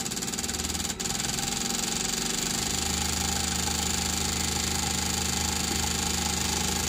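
A Toyota engine held at 3,000 RPM during fuel injector cleaning and balancing, producing a steady, loud, continuous engine drone with no pauses and no talk.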